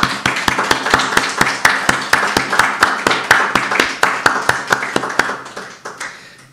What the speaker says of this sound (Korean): 여러분 한 번 더 박수하겠습니다.